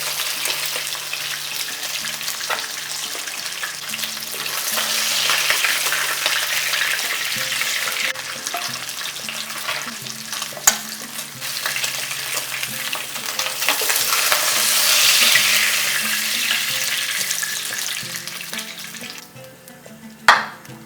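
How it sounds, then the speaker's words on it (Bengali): Steady sizzling of fish frying in hot oil, continuous and close, with a couple of sharp clinks near the end. "একটা সাইড একটু বেশ ভালো করে ভাজা হয়ে যাওয়ার পরেই উল্টাবেন"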